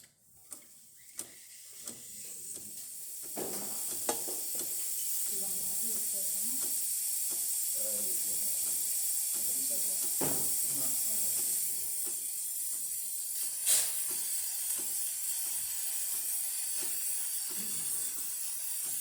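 A Breville Duo-Temp RM-800ESXL espresso machine's steam wand hisses steadily and loudly for a sustained stretch, with bubbling and sputtering, after heating up following a full service.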